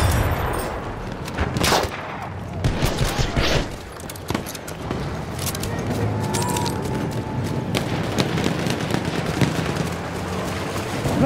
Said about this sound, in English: Spotted a machine gun.